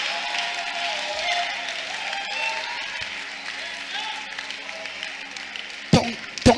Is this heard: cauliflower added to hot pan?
no